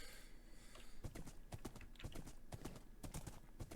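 Horse hooves clip-clop in Minecraft, a fast, even run of hoofbeats lasting a few seconds, faint and close, with no voices.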